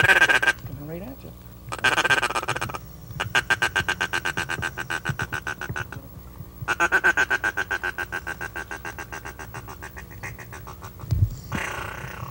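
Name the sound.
duck calling and ducks quacking during hunt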